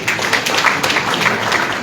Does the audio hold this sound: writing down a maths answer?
no